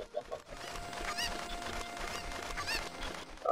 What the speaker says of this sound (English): Oh, this chicken is freaking the fuck out.